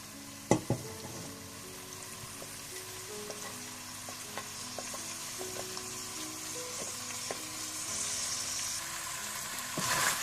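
Green chillies and long-sliced onions frying with meat for bhindi gosht, a steady soft sizzle with scattered pops and occasional utensil clinks as the pan is stirred, no talk.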